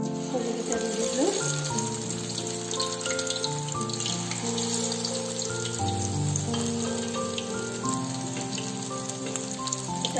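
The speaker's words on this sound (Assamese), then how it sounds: "কেৰাহী গৰম হৈছে। এতিয়া মই লাও ফুলৰ কলিকেইটা দি দিলোঁ।" Bottle gourd flower buds frying in a hot wok, a continuous bright sizzle and crackle that holds steady and loud throughout, with low tonal hum underneath.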